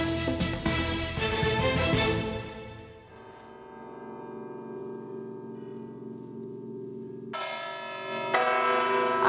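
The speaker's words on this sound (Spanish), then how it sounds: "Varios ciudadanos tocaron a la vez las campanas desde 11 templos repartidos por la ciudad." Church bells ring together from eleven churches across Segovia at night. Loud, overlapping clangs open the sound and fade into a long humming decay. Fresh strikes come in again near the end.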